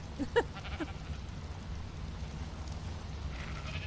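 A few short sheep bleats in the video game Ark Survival Evolved near the start, fairly faint over a steady low hum, then only the background drone remains.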